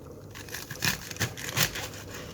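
A knife cuts pak choy into quarters, producing a few close crisp crunching slices and crinkling leaf sounds over a short stretch, with no talking.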